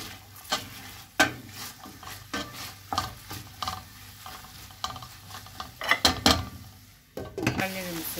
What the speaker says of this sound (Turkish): Soğanı biraz kavrulsun. Biberini ve domatesini ondan sonra ilave edelim.